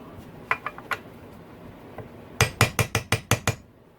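Light hammer taps on a socket during a Yamaha YZ450F motorcycle engine rebuild, a few scattered metallic clinks followed by a quick run of about eight sharp ringing taps, close up.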